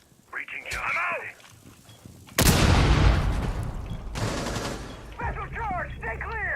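Breaching charge detonation in a competitive esports video game match: a sudden loud blast that rumbles on for several seconds with gunfire mixed in. Players talk before and after it.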